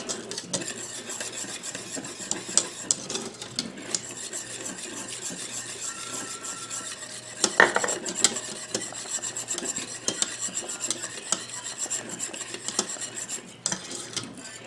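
A whisk scrapes and rasps steadily against a pot as cornmeal is beaten into simmering Indian pudding, a close, continuous metallic rubbing with occasional clinks and no talk.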